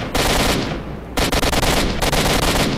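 Sustained automatic weapon fire in STALKER Shadow of Chernobyl, a long close rattling burst, then a brief pause and another rapid string of shots, loud and unbroken by talk.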